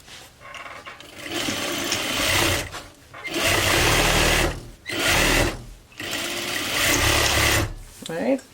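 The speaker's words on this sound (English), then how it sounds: "So do the same 1/2 inch stitch on the other side." A sewing machine stitches a half-inch seam on a reversible grocery tote bag. It runs in about four loud, whirring bursts separated by short pauses, ending with a brief rattle.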